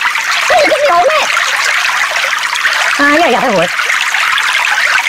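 Water splashes and streams continuously onto a character in Kick The Buddy, a loud, steady gushing spray while a voice speaks over it in two short bursts.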